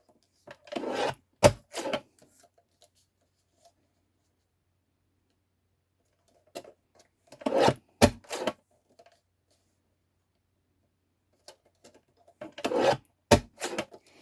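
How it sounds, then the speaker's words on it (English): A paper guillotine trimmer slices card into 3/4 inch strips for a pop-up staircase card, giving three separate bursts of rasping, scraping cuts, each a second or two long, spaced by silence and close to the listener. "I'm gonna be using my guillotine, and 3/4 of inch I'm gonna cut this"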